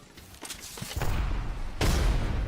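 A frag grenade goes off in the battle game Apex Legends as a heavy, booming blast, with a second loud burst following close behind amid a steady wash of combat noise.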